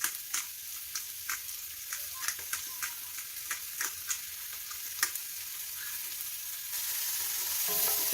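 Beef bourguignon sizzles steadily in a frying pan while a utensil stirs it, giving regular scraping taps about every half second over a constant frying hiss, close and fairly quiet.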